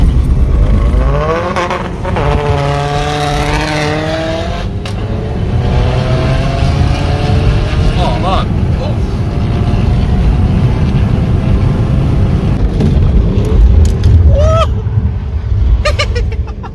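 Race cars launch down the drag strip at Crail Raceway, engines revving and rising in pitch as they pull away. The steady roar fills the clip with crowd and track noise around it.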